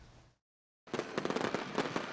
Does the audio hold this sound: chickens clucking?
no